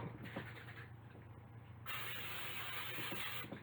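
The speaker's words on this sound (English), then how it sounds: "now I'm going to take my casserole dish and I'm going to spray it." Two bursts of cooking spray hiss close by into a casserole dish, a short one near the start and a longer, louder one after a pause, over a low steady hum.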